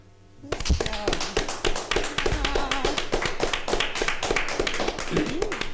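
A small group of podcast guests claps hands in a room, a steady run of close, sharp, fairly rapid claps lasting several seconds, with a voice speaking underneath.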